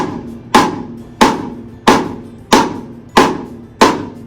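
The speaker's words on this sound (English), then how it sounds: "Now with rim shots, you want a really awesome, fat, clicky sound." Snare drum rim shots with a fat, clicky crack, seven sharp, evenly spaced hits about two thirds of a second apart, each decaying quickly, played close and alone.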